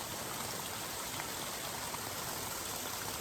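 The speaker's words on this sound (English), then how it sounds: "the sound of the water running down, little waterfalls and things like that" A mountain stream rushes down over little waterfalls on a hiking trail in Mallorca, a steady dense broadband wash of flowing water, constant and close with no voices.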